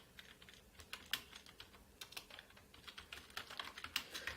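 Someone types on a computer keyboard while working in CorelDraw 2019, with irregular bursts of close, crisp key clicks and short pauses between them.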